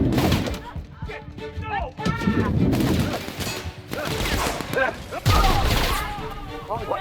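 Gunfire in The Outer Worlds combat, bursts of shots and impacts alternating with shouted voices, fairly loud and close, with a heavy crashing blast near the end.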